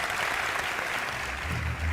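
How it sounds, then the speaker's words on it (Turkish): An audience applauds during an interview event, steady dense clapping throughout, with a faint low voice underneath near the end. "Bir kısmına ayıp olmasın diye alkışlıyorlar diye kabul etsek"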